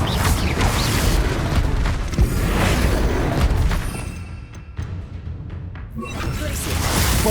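A Bombarda blasting spell explodes in Hogwarts Legacy amid dense, continuous combat rumble and booming blasts, loud and close, with a brief dip in intensity partway through before the roar swells again.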